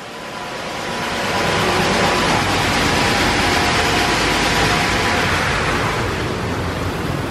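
A car wash sprays surface protectant over a vehicle at a Chevron gas station, a loud, steady rushing hiss of spray that swells in the first second and holds evenly throughout.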